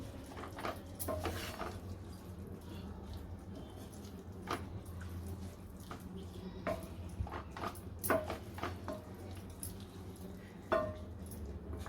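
Wet squelching and soft scraping as cluster beans sabji is stirred in a pan with added water, with irregular clinks of the spoon against the pan over a low sizzle.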